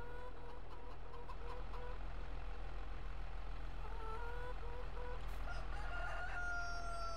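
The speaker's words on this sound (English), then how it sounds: "How good are these chickens?" Outdoors on a ranch farm, a rooster crows among a flock of chickens, the calls faint and somewhat distant over a steady low rumble of background noise, with a second crow rising later.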